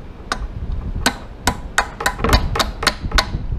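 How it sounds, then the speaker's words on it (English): A hammer taps a pin out of a Ducati Monster 620 rear brake caliper about ten times in an irregular rhythm, sharp close-up metal knocks with short pauses between strikes. "with the help of a hammer, I was able to just gently tap this pin out"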